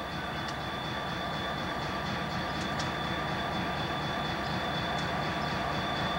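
A CSX railroad tie train led by locomotive 9723, on the Plymouth Subdivision at Fowlerville, Michigan, in 1996, rolls steadily past, its continuous rumble and rail noise filling the scene with faint wheel squeals and clicks over a constant drone.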